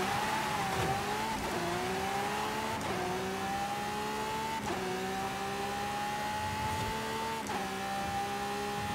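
Drag car in Forza Horizon 5 revving hard through repeated gear shifts, the engine note climbing in pitch and dropping at each change, loud and continuous with a steady roar beneath.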